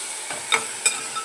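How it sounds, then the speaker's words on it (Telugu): A spoon stirs a hot tempering of dried red chillies and green chillies for Mysore dal with tomato, giving a few soft scrapes over a low steady sizzle of frying. "అన్నీ వేసి కలుపుకోవాలి ఫ్రెండ్స్"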